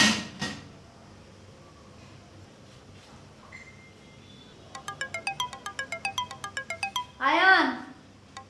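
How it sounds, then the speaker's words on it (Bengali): A phone rings at home with a rapid repeated electronic tone, fairly clear and close, after some household clatter and brief voices; a short burst of speech follows the ringing. "আয়ান, আয়ান, ফোনটা একটু আনো তো।"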